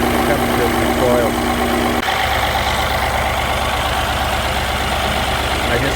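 2014 Mini Cooper engine idling with a misfire, an uneven, rough running hum with a constant mechanical rumble and a brief tone that stops partway through.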